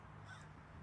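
A crow caws outdoors, a short harsh call standing out over low steady background hum, with no one talking.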